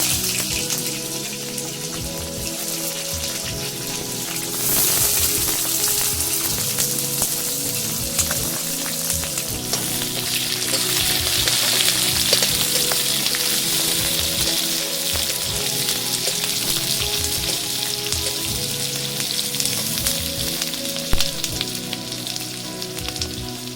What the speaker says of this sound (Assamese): পিঁয়াজখিনি ৰঙচুৱা হোৱালৈকে অলপ ভাজি ল'ম